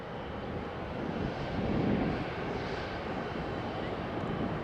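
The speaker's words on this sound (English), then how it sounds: "Next landing it's EasyJet from Luton" An EasyJet airliner from Luton landing at Faro Airport: a steady, broad engine roar at moderate distance, swelling slightly midway and holding level, with light wind noise and no speech.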